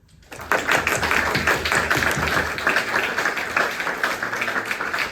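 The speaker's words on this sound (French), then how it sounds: "On va les applaudir un coup avant de les laisser parler." An audience at an evening talk on open source and AI applauds the hosts, a sudden start of dense, lively clapping from many hands that carries on steadily for several seconds.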